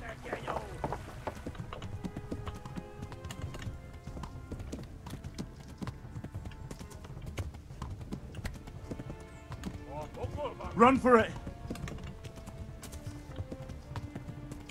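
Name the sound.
horse hooves galloping in Kingdom Come Deliverance video game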